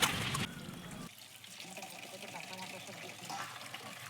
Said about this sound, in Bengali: আর এবার চিংড়ি মাছগুলোকে ধুয়ে নেবে ভালো করে।